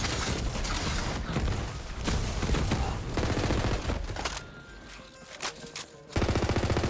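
Fire-element gun shooting mushroom enemies in Tiny Tina's Wonderlands video game, a loud continuous automatic barrage of rapid shots with brief gaps, ending in another dense burst.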